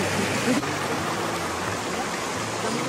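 A river flows in a steady, close, broadband rush of water that stays even throughout, with no clear talking over it.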